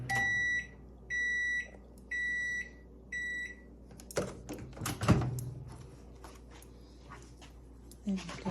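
Four evenly spaced electronic microwave beeps ring out, followed by a door clunking open and some handling noises.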